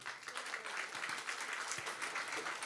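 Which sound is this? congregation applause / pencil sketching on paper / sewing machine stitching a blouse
congregation applause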